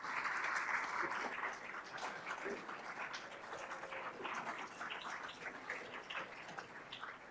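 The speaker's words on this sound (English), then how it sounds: "please, another round of applause for JetBlue for the generous sponsorship of the event" A garden contest audience applauds the event's sponsor, dense, even clapping that holds at moderate loudness throughout, strongest at the start and tapering slightly.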